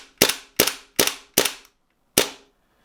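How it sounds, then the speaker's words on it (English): A Cybergun/WE Desert Eagle L6 gas blowback airsoft pistol fires five sharp, close, cracking shots: four in quick succession, then a short pause before the last, each with a snappy blowback clack and quick decay. "quite a strong blowback action on this pistol"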